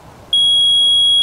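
A voltmeter sounds a continuity-test beep while its probes touch antenna cable leads: one steady, loud, high-pitched electronic tone that begins sharply and holds unbroken to the end, close and clear.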